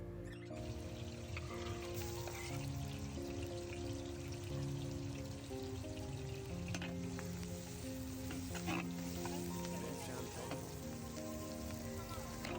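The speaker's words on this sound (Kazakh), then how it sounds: "Алдымен қызып тұрған майға пиязымызды жақсылап қуырып аламыз." Onions frying in hot oil outdoors for lamb kuirdak, a steady dense sizzle throughout with faint stirring clicks, under a low background hum and no speech.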